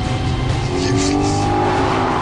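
An Audi TT and BMW Z4 on a dry track, engine loud and rising with a sustained tire squeal layered over the revs, close and without talk.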